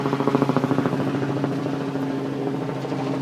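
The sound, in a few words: helicopter flying overhead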